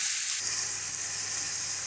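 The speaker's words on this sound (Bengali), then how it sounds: "তেলের মধ্যে আলু আর মিটুলি দিয়ে ভালো করে সুন্দর করে কিন্তু বেশ কিছুক্ষণের জন্য ভালো করে কষিয়ে কষিয়ে ভাজতে হবে" Potatoes and pui mitul fry in hot oil in a pan, giving a steady, close sizzling hiss that brightens sharply early on and then holds, with no voices.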